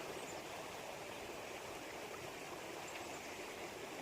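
Rushing rapids in an icy river give a steady, dense roar of flowing water, continuous and even throughout, with no voices.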